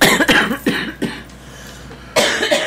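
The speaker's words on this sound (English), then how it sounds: "So forgive me if I cough sometimes, everyone." An allergy-driven cough from one person, a cluster of close, sharp bursts followed by a quieter gap, then another cough near the end.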